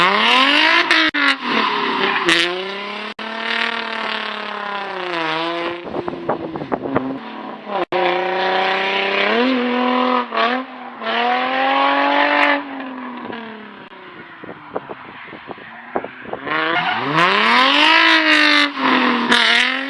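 A car with a factory limited-slip differential that erratically locks and unlocks is driven hard in laps on snow, its engine revving up and down in repeated loud sweeps with occasional tire squeal and skidding, near and continuous.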